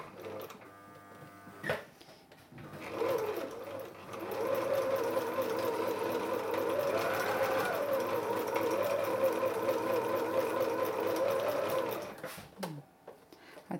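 A sewing machine stitching through a paper mini album, running as one steady mechanical whir for about eight seconds between brief handling noises, close and clear with no talk.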